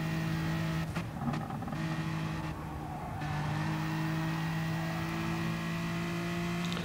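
Race car engines in the Gran Turismo Sport video game at Brands Hatch drone steadily and loudly throughout, with shifting pitch as the cars accelerate and lift without pause.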